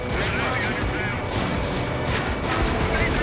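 Dense, continuous rumbling explosions and crashing fill the air as a missile destroys a radar vehicle in the Ace Combat 7 flight combat game, loud and sustained throughout.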